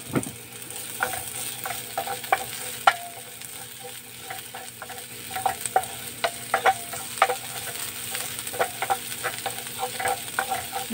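Onions being sautéed in a pan with garlic, an even sizzle broken by frequent irregular clicks and taps of a spatula against the pan.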